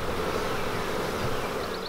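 Honeybees buzzing at a Fort Mill apiary, a steady dense hum held at an even loudness for two seconds, with no voices over it.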